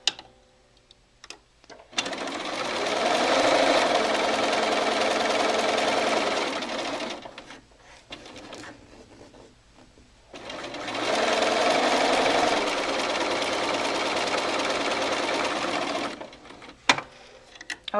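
Sewing machine stitching a quilt block together, two long, steady bursts of fast mechanical whirring, each several seconds long, separated by a quieter pause with small clicks and handling noises.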